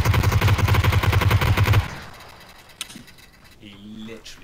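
Rapid automatic gunfire in the battle game PUBG, loud and close, rattling in a steady burst for nearly two seconds before cutting off, followed by quieter scuffling and a brief voice.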